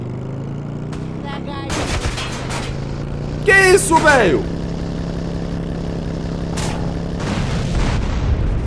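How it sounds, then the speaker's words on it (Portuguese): Video game gunfire bursts, heavy bazooka shots and rapid minigun fire, ring out over a steady engine drone while someone talks excitedly. "O cara deu tiro até de minigun, vocês ouviram?"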